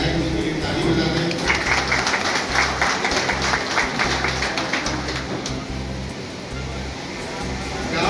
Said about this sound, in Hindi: एक बार विधायक उसके लिए ताली बजा दें।